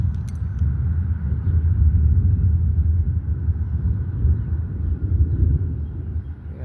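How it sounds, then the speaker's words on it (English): Thunder under storm clouds rolls as a continuous low, heavy rumble that swells and holds steady for several seconds, loud and without speech. "the thunder rolls, and it sure did just now"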